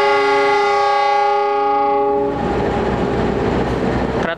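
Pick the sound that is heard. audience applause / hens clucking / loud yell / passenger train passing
passenger train passing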